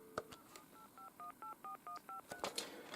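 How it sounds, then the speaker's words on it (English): Auto-dialing tones from a 1988 British Telecom Minstrel telephone, ivory, sent by one-touch memory dial: a quick run of about eight even, steady dual-tone beeps, close and clean, framed by faint handset clicks before and after. "So as you can hear, that was dialing through."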